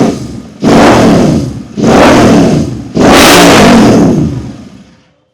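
A Royal Enfield GT 650 motorcycle with an aftermarket exhaust revs close by in three strong, rising blips, each held briefly before the last one falls away to quiet.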